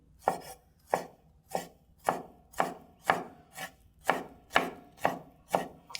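A knife chops through jalapeno peppers on a cutting board in about ten steady, evenly spaced strokes, crisp and close with nothing else heard.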